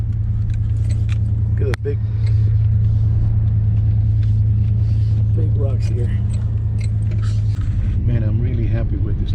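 An old Chevy truck rolls over rough, rocky terrain, its engine a steady low rumble with rattling and clunks, while someone talks inside the cab.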